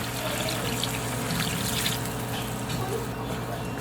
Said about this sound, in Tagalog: So next step, lalagay po tayo ng tubig.